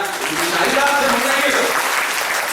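Audience applause at a gathering marking Maharshi Dayananda Saraswathi's death anniversary: a dense, steady wash of many hands clapping that stays loud and unbroken throughout.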